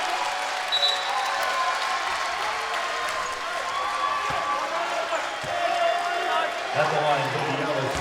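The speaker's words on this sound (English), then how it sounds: "Listen to this crowd here at the Comerica Center in Frisco, Texas." A basketball crowd cheers and claps at the NIT men's championship between Mississippi State and Memphis at the Comerica Center in Frisco, Texas. A broad, continuous roar of fans carries throughout, with a voice partly audible over it.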